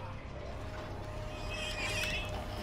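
Pigs squeal in the video game White Shadows, their faint high-pitched cries rising over a steady low industrial hum around the middle of the moment, with no one talking.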